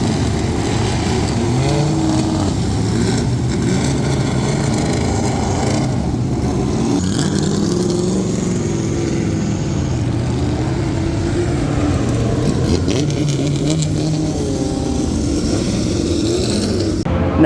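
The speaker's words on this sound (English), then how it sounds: "the Group 4 cars are just about to get going" Several vintage Group 4 race cars roar and rev continuously nearby as they pull away, a dense, loud mechanical drone with faint voices underneath.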